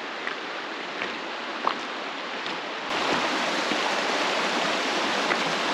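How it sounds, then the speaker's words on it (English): A waterfall pours into the Wenatchee River in Washington, a steady broadband rush of flowing water that grows fuller and louder partway through, with faint clicks and no talk. "see if we can actually get to the water from the waterfall and the Wenatchee River"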